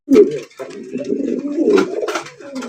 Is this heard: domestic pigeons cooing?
yes